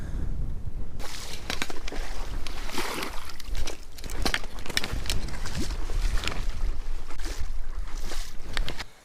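Strong blizzard wind of around 40 mph buffets the microphone in a continuous loud roar with gusty swells and rustling bursts throughout.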